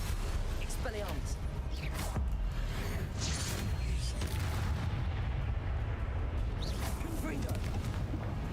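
Confringo fire-blast spell cast in the Hogwarts Legacy video game, heard as loud, repeated booming bursts over a dense, continuous din of combat effects.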